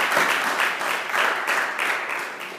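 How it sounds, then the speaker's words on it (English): Church congregation applauding, a dense crowd of hand claps rolling on steadily at close range with slight rhythmic swells and no speech over it. "Give God a hand clap, praise these wonderful ladies."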